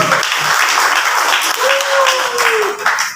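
Church congregation clapping for Jesus during a sermon, a dense wash of applause with a voice and a sustained tone rising over it midway.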